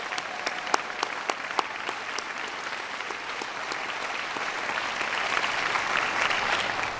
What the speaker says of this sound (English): I hope that we can all give him a big round of applause.